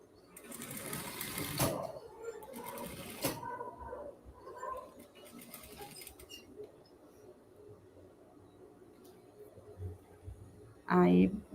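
Sewing machine stitching around a garment collar, running in a couple of quick bursts early on, then quieter handling noises, with someone talking over parts of it.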